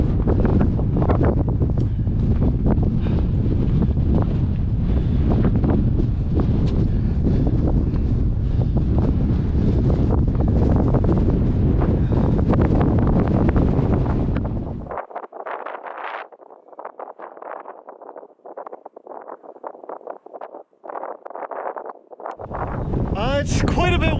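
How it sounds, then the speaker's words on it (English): Strong wind roars loudly across a microphone on an Alaskan mountainside, a dense continuous buffeting that suddenly drops into quieter gusty flutters before surging back at the end. "It's quite a bit windy"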